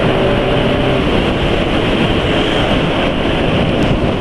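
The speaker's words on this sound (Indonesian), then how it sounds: "Jadi suara mesin masih tetap ya lebih halus daripada motor-motor lain" A motorcycle engine running on Idemitsu 10W-40 JASO MB oil mixed with corn oil gives a steady, loud, broadband rumble that holds without a break for the whole stretch and carries no talk.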